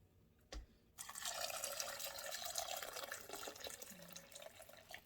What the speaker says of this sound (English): Let's add a little more broth.